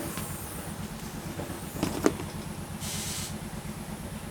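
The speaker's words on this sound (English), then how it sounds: "Oh, I hear a motorcycle pulled up out front." A motorcycle idles and rumbles steadily nearby out front, a low throbbing engine sound with faint hiss and no talking.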